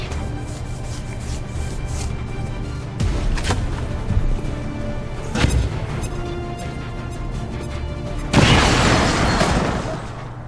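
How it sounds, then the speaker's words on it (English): A thrown grenade detonating in a shooter video game, heard as a sudden loud broadband blast near the end that follows a few duller booms over steady in-game background noise. "The quickest way to do that is toss a grenade on him."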